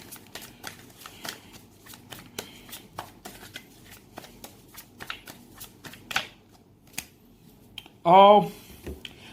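Tarot cards shuffled by hand for a reading, a steady run of crisp riffling flicks close to the mic, ending with a brief voiced sound near the end.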